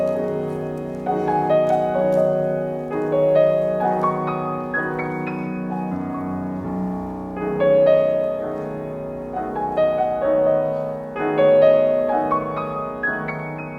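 Solo piano plays the opening pentatonic melody from Debussy's Pagodes in Estampes, ringing chords and bell-like notes moving in gentle waves, with no talking.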